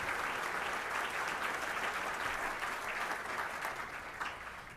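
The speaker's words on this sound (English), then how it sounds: "let's give Bill Sweeney another round of applause" Dense, steady applause from an awards-ceremony audience for an honoree at a democracy awards event, sustained throughout and tapering slightly near the end, with no voices over it.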